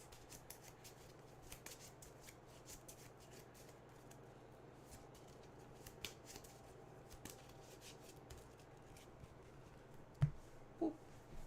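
Trading cards being shuffled at a card game regional, soft repeated riffling and flicking of the deck, quiet and close, with a couple of sharper snaps toward the end.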